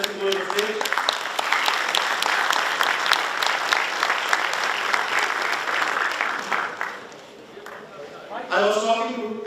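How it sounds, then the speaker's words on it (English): An audience at a university event applauds steadily as Morocco's ambassador walks on stage. The clapping fades near the end and a voice starts speaking. "Give a huge applause to His Excellency going on stage."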